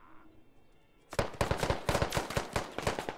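Gunfire in the military shooter game Squad: after a quiet second, a sharp burst of close, loud shots cracks out in a rapid, uneven rhythm, with several more reports following.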